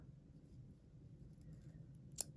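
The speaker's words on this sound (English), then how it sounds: "you cut through all the loops" A single short, crisp snip of scissors cutting through the yarn loops of a handmade tassel, close but quiet, heard near the end after a low background murmur.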